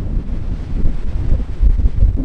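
Strong gusty wind buffets the microphone on a clifftop at the Seven Sisters near Brighton, a loud, continuous low roar that swells and surges throughout.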